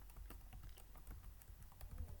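Quiet, rapid keystrokes on a computer keyboard as a SQL query is typed, a steady close patter of clicks with no speech.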